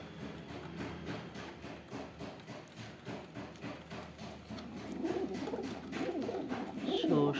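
Pigeons cooing close by in a kept loft, repeated soft throaty coos that overlap in an uneven rhythm and grow louder toward the end, with faint knocks and shuffling underneath.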